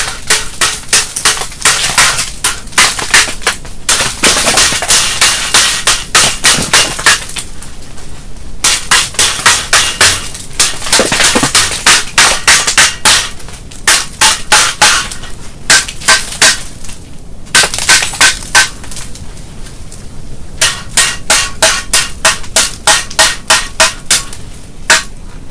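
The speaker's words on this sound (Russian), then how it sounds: "Лед отколачивается и не портится бур." Rapid bursts of sharp metallic hammer blows knocking ice off an ice-fishing auger in a winter blizzard, in quick clusters separated by short pauses, loud and close.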